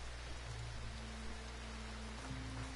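Rain falls in a video game, a faint, steady patter under low droning tones that continue evenly throughout.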